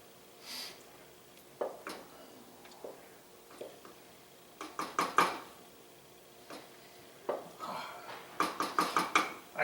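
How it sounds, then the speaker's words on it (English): Red sauce stirred in a pot with a utensil, producing intermittent scraping clinks and soft clacks against the pot, irregular and close, growing busier toward the end, with no talking. "I just like stirring it because I just love the smell of it."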